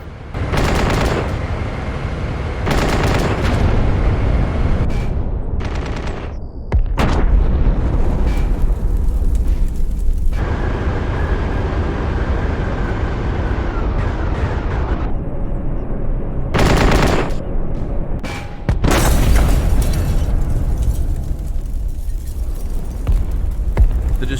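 Heavy explosions and sustained gunfire hit an enemy fuel site holding three fuel tankers with fuel blivets during a military company assault. The roar is loud and nearly unbroken for the whole stretch, with repeated bursts and booms and no talk.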